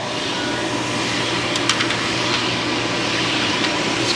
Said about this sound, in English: So we turn on the vacuum.